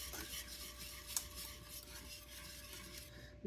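Fudgesicle ingredients sweetened with monk fruit being stirred together in a bowl, a soft steady scraping and rubbing with a faint clink of a utensil near the middle, close and alone.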